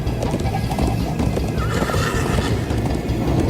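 A horse in Minecraft Story Mode gallops with steady clip-clop hoofbeats and whinnies loudly, the sound close and continuous throughout.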